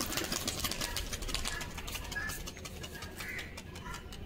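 Pigeons released in lots and taking flight on a clear day, with a rapid fluttering of wings and occasional cooing over a background engine-like hum.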